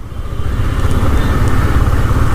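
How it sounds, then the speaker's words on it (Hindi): A motorcycle without ABS runs at high speed, its engine and wind roaring loud and steady at close range as the rider prepares to brake hard. "अभी देखिए मैं आपको दिखाता हूँ ब्रेक लगा के"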